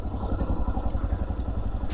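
A Yamaha XT600 single-cylinder motorcycle engine idles steadily at about 1,500 rpm, a close, even low thumping pulse with light mechanical ticking and no other sounds over it.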